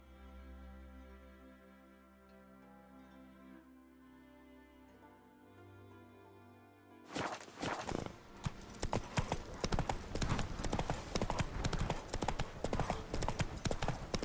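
Roach, a horse in The Witcher 3, walks with steady hoof clip-clops that start about halfway through, loud and close, following a stretch of quieter tonal game ambience.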